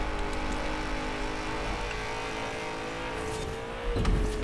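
A Mazda race car in Forza Horizon 4 drives with a sustained engine drone, then the pitch drops sharply near the end under hard braking with a brief tire squeal and surge.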